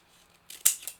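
Scissors snip through folded paper while a banana craft is cut out, making a short, close, crisp cut that lasts under half a second.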